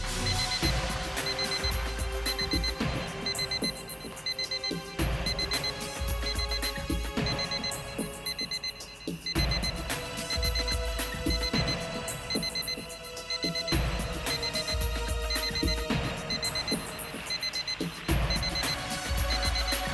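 An alarm rings on and on near a suspected bomb by a car, sounding loud repeating electronic bursts separated by short gaps, with no voices.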